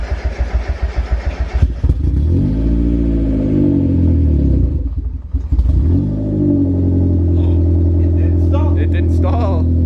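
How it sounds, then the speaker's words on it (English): Mazda Miata project car with twin turbo cranking in a quick rhythmic chug, then catching and settling into a loud, steady idle with a dip and recovery midway. "About to fire the Miata up for the first time since."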